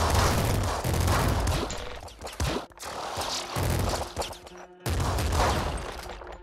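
Rapid bursts of video game gunfire crackle loudly and densely in several volleys, broken by short gaps, with no talking over them.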